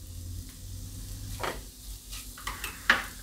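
Grated turmeric and ginger roasting in ghee in a pan, a faint sizzle underneath occasional scraping strokes of a spoon and a couple of sharp metallic taps toward the end.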